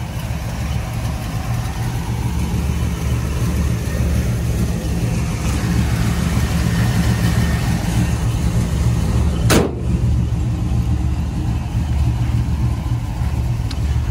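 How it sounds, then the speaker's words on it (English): A 1977 Pontiac Trans Am SE400 idles with a steady, deep, rumbling engine note, loud and close throughout, with one brief sharp click partway through. "Motor sounds excellent on the car."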